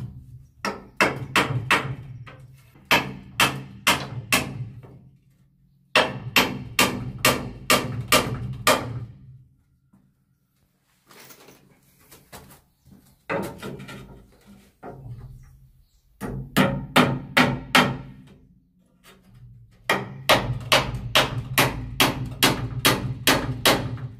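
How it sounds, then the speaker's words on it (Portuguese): Repeated hammer blows drive a nail into a wooden door frame, coming in quick bursts of about six to eight strikes with short pauses between them, loud and close. "Ó, vou pregar aqui."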